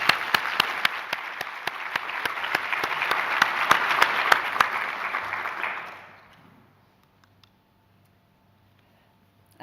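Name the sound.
applause for a conference keynote honoree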